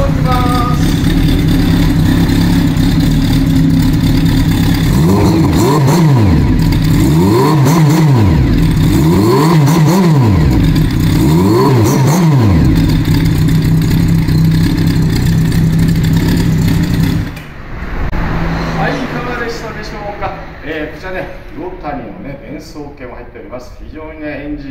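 A Kawasaki Zephyr 750 Final Edition motorcycle with FCR carburetors and a black four-into-one exhaust revs loudly several times from idle. It then settles to a lower, quieter idle, with someone talking over the engine.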